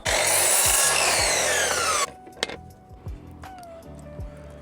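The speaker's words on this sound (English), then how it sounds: "cut a piece of wood to go the full length of the van down the way" A handsaw cuts through a length of wood for a van conversion, loud rhythmic back-and-forth strokes for about two seconds, then the cut stops and a few quieter knocks and scrapes follow.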